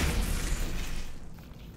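An explosion in the VR game Half-Life: Alyx lands as a loud, deep boom that rumbles and then gradually fades away.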